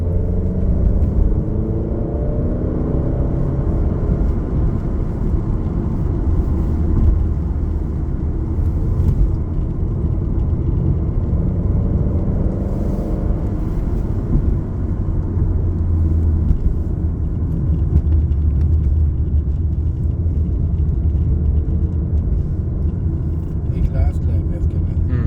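Steady loud drone of an Alfa Giulia engine lapping Blackhawk Farms Raceway in the rain on Potenza high-performance tires, with rumble, tire hiss and shifting revs running continuously from inside the car.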